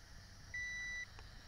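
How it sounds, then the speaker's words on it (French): A single steady electronic beep lasting about half a second from an XK Alien X250 quadcopter remote control, signalling headless mode, clear against a faint background hum. "on va avoir un bip rébarbatif, ce qui veut dire qu'on est en mode headless"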